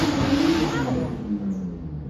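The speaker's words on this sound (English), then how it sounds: "That's supposed to be a motor car" A motor car engine droning steadily at close range, a broad rumble that fades slightly toward the end with no voices over it.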